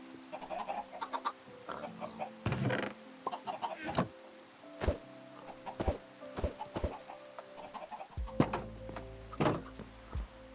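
Chickens in modded Minecraft (Sky Factory 3) clucking, with repeated short clucks and squawks scattered over a quiet background, some louder and closer, mixed with occasional clicks.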